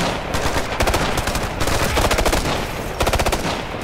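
Automatic gunfire from the video game Ghost Recon Future Soldier comes in loud, rapid bursts with short gaps between them. No one speaks.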